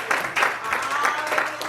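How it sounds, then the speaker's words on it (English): A church congregation gives a praise clap during a sermon, a short, dense wash of applause throughout, with a voice mixed in. "Let's give Him another praise clap."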